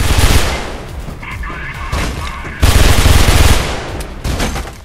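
Rapid automatic gunfire in Mirror's Edge, loud and close, with sustained bursts and a few short pauses, dense and continuous throughout.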